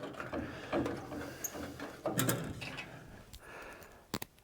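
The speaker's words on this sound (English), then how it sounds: "go ahead and get the nut threaded on there" A metal nut being spun and threaded onto a bolt while fitting PVT aftermarket parts, giving close, uneven rattling and ratcheting clicks in short bursts with brief pauses.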